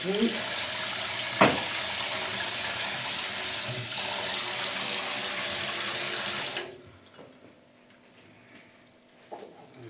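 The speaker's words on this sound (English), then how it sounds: "Gonna try drain all the water off." Loud rush of pasta water pouring into a sink for several seconds as pasta is drained, then cutting off to quiet with a few faint clinks.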